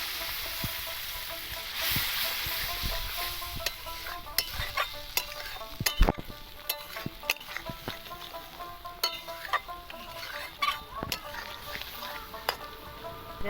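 Spices fry in oil for Kashmiri aloo dum, a steady sizzle under frequent clinks and scrapes of a spoon stirring the pan, close and moderately loud.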